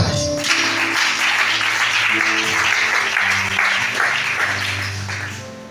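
Church congregation applauding during a Sunday worship service in Libreville, Gabon, steady dense clapping throughout with music and some voices underneath, fading slightly at the end.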